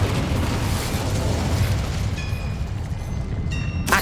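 An Incendio fire spell is cast in Hogwarts Legacy, giving a dense, roaring whoosh of flame that stays steady and loud for several seconds, with faint chiming tones near the end.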